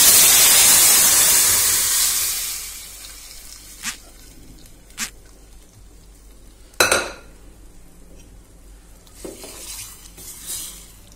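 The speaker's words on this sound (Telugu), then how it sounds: "ఇదిగోండి తానింపు బాగా వేగింది కదా ఇప్పుడు ఇందులో పప్పు వేసుకుందాం" Lentils hit a hot, well-fried tempering in a pan, setting off a loud burst of sizzling that fades over a few seconds. A handful of sharp scraping knocks from stirring follow in the quieter spell.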